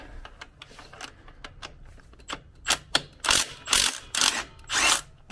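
Stubby ratchet working 14 mm bolts while pulling a Subaru STI EJ207 engine: light clicking at first, then repeated louder bursts of rapid ratcheting clicks, up close.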